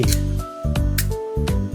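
A Canon Demi film camera's mechanical shutter, set to B, clicks open and shut about three times in quick succession, each with a short buzzing whir between.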